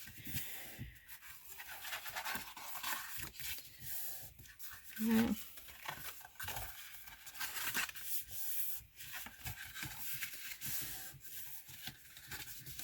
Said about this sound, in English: you're just going to fold all these and burnish them